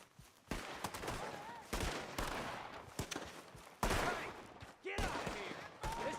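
Gunfire crackles in a Red Dead Redemption 2 game scene, a string of sharp shots at varying distances, some close and loud, others farther off, over a faint background and a few voice fragments.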